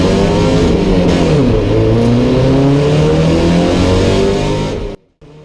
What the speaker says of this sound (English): I gave it plenty of revs, spinning the wheels through first before short shifting and bogging down in second